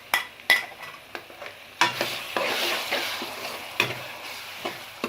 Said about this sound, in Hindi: अब इसको उतनी देर तक भूनेंगे जब तक कि टमाटर और प्याज गल नहीं जाते।